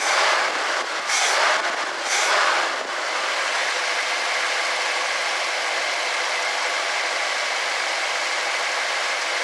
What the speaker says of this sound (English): Belt squeal.